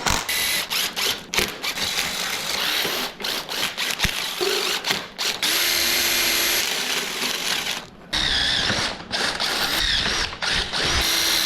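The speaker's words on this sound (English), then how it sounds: "I gotta drill out these holes." Loud power drill grinding through metal in bursts on a Sur Ron X electric motorbike seat, whirring with short pauses and clattering in between.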